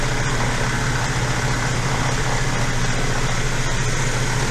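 A homemade Toyota truck driveshaft spins at high speed, giving a steady, loud mechanical drone with a strong low hum and broad whirring noise that holds constant throughout, with no talking.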